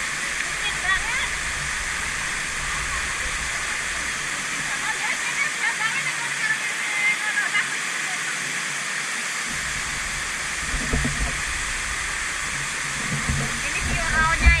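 The waterfall at the Mirror Pool in Tai Po, Hong Kong, roughly 30 metres high, gives a steady, broad rushing hiss of falling water, constant and fairly loud, with faint voices underneath.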